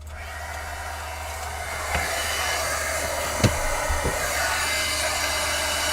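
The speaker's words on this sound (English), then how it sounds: "Pam, if you knew I was gonna heat emboss, why didn't you plug it in?" A heat embossing gun blows hot air in a steady, loud whoosh that holds for several seconds, with a few faint knocks and taps under the roar.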